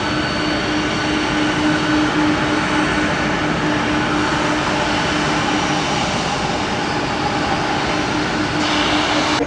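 A heavy MD-11 jet takes off from runway 19 right, its engines a loud, steady broadband roar with a faint sustained whine that holds without a break for the full stretch.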